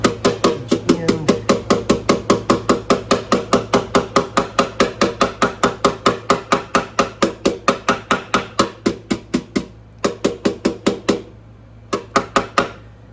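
Small hammer tapping frets into the fingerboard of a 1943 Martin D18 guitar during a refret, a long run of quick, sharp, evenly spaced taps, close and loud, with brief pauses near the end.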